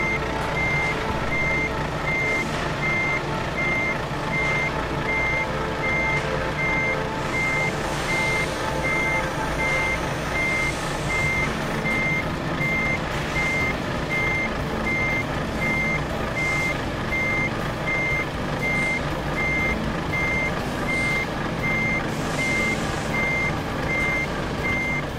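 A truck in Euro Truck Simulator 2 reverses into a parking spot, its backup alarm beeping in a steady, evenly spaced rhythm over a constant engine drone throughout.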